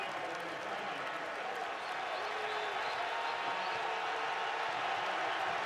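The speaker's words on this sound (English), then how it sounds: "This crowd is getting into the game." A football stadium crowd cheers at a Wisconsin at Iowa college game, a steady broad roar of many voices that holds without pause, with a faint announcer voice running underneath.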